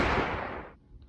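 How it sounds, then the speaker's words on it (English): A single gunshot sound effect in an animated story: one loud, sharp blast that decays quickly into near silence within under a second. "Another gunshot."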